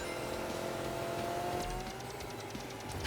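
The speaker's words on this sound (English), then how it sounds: "the car sounds in this game are a little frick" A car engine in Team Sonic Racing revs steadily at a fairly quiet level, a continuous droning whine that rises in pitch, with brief clicks near the end.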